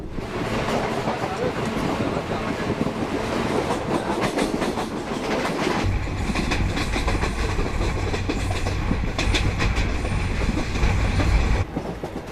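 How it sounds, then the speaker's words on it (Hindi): A Konkan Railway train runs on its tracks, a loud continuous rumble with rhythmic clattering wheel beats, heard from on board, with people talking in the background. "I've chosen to take the railway because it's far more comfortable as far as trains go."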